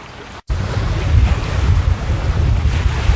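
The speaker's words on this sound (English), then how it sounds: "Beating up hook passage into about 18 knots of breeze" Wind and waves while beating upwind through Hook Passage in a trailer sailer in about 18 knots of breeze, a loud continuous roar of wind buffeting the microphone with water rushing along the hull after a brief dropout.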